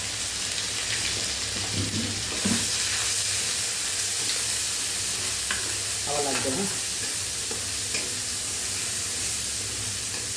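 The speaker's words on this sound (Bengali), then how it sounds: "এই কড়াইতেই সর্ষের তেল গরম করে নিয়েছি। এবারে এই আদা রসুনের পেস্টটা দিয়ে দেবো।" Ginger-garlic paste sizzles and hisses in hot mustard oil in a kadai, a steady frying crackle with occasional stirring scrapes; no talking.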